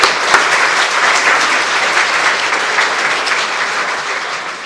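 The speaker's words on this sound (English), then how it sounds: "So just a round of applause for our volunteers." A luncheon audience claps warmly for volunteers, a loud, sustained round of applause from a close room crowd that continues evenly for several seconds before easing slightly at the end.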